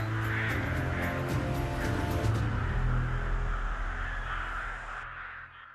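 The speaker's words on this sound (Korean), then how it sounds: "10만 마리가 함께 살아가는 떼까마귀의 세계" A large flock of rooks caws in Ulsan in winter, many harsh calls overlapping into a dense, continuous chorus that fades slightly toward the end.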